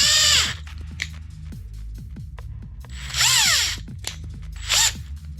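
A power drill whines as it drills out a rivet head on a Ford GT40 build, running in loud bursts at the start and again twice later, with a low, uneven grinding and clicking in between.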